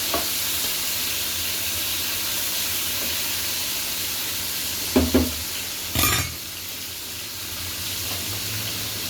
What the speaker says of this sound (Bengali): এখানে আমি ভাজতে আসছি মাছ।